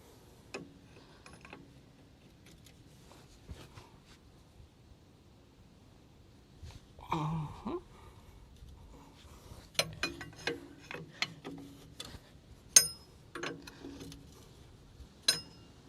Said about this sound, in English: I'm going to use a wrench like this